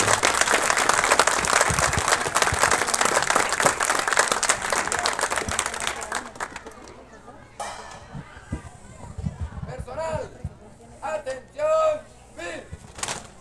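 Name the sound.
strong applause at ceremony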